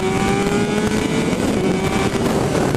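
A 600cc sport motorcycle engine revs as the throttle is cranked, giving a loud, sustained high-pitched whine with a steady tone that rises slightly. It is close and continuous over the short stretch, with no voices.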